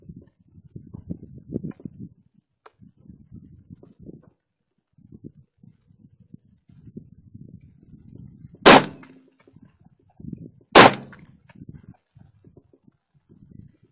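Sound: 10 gauge shotgun shooting a steel drum

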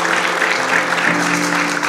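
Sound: applause

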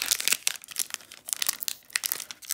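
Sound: opening a hockey trading card pack wrapper

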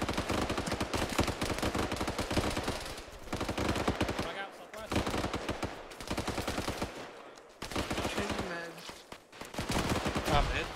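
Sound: gunfire in a military video game

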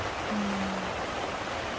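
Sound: rain falling

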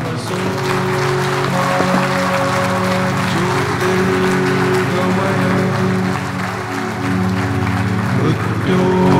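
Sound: thunderous audience applause at award presentation

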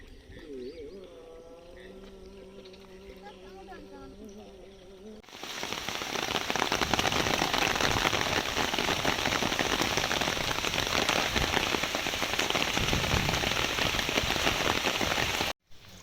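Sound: heavy rain

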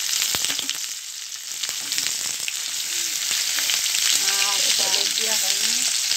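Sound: boiled potatoes and green chillies frying in ghee

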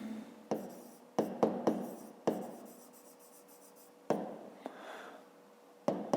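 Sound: writing down a math solution

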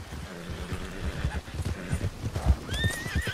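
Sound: horse neighing and hooves clip-clopping

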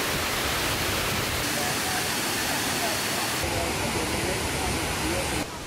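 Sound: Kuang Si waterfall in Luang Prabang, Laos

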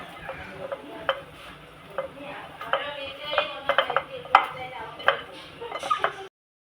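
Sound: mixing chopped bitter gourd with salt

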